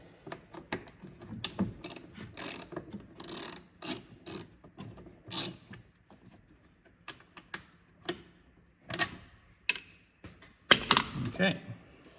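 Quick bursts of ratchet clicking come from a wrench undoing a bolt under a 2020 Mercedes A45s during charge pipe and turbo heat shield work, close and fairly quiet, in short separate spurts with pauses between them.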